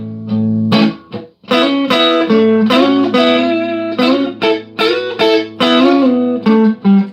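An electric guitar plays a bright melodic run of single notes moving up and down a major pentatonic scale, loud and close, with no talking.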